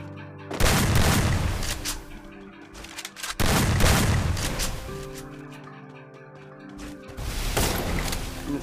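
Gunfire in a mobile shooting video game comes in three loud bursts of rapid shots a few seconds apart, with quieter background game sounds in between.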